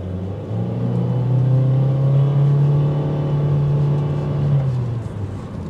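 A 2023 Honda HR-V Sport accelerates on a test drive, its engine drone rising steadily in pitch as it builds speed, heard loud and close from inside the cabin, then easing off near the end.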